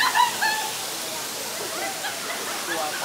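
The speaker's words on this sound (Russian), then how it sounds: "Посмотрите, как бежит вода." The third cascade of a jungle waterfall near the River Kwai rushes as a dense, steady roar of falling water, close and full, with a few brief high chirps over it.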